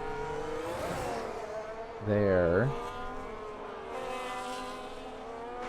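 A Formula 1 car during Canada qualifying gives a brief, rising high-pitched engine whine as it passes, heard under ongoing commentary.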